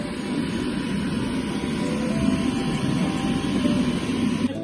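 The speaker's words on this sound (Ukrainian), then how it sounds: "принтеру висилається дані, і він починає друкувати" A 3D printer runs in a school STEM lab while printing a keychain, giving a steady mechanical whir and hum that stays at an even level throughout with no pauses.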